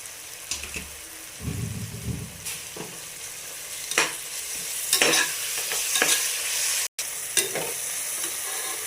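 Ginger garlic paste, tomato and onion sizzling and frying in a pan for veg biryani, with stirring scrapes and a few clanks, steady and close, no voices.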